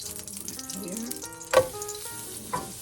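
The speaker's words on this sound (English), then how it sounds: "I still have one eggplant to cook." Eggplant frying in a pan for a Filipino eggplant omelette, a soft continuous sizzle with a few brief louder crackles and stirring sounds, close but fairly quiet, with no talk.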